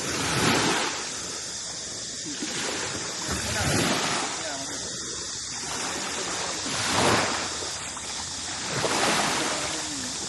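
Sea waves roll onto a small beach at Koh Larn, Pattaya, in slow surging swells that rise and recede about every two to three seconds, with wind buffeting the microphone.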